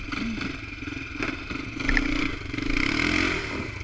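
A heavy motorcycle revs hard at full throttle, a loud continuous engine roar that swells in the second half, with clattering and scraping mixed in and no talk.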